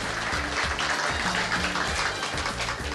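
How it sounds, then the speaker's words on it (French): A gala dinner audience claps steadily for a few seconds, a moderately quiet, continuous patter of many hands in a large room, with a low tonal hum running underneath. "Madame Danielle Bertrand, qu'on applaudit très fort"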